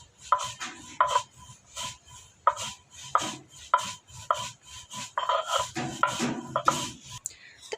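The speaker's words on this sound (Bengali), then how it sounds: "আগে কালো জিরাটা বাইটে নিচ্ছে মিহি করে" Black cumin is ground finely on a grinding stone, making a steady rhythm of rubbing, knocking strokes about once every half second, close by, with voices talking in the background.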